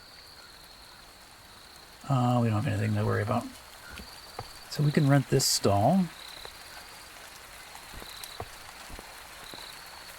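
Steady soft rain patters throughout in the merchant game A Merchant's Promise, a constant even hiss with a few faint drips, while someone talks over it in two stretches.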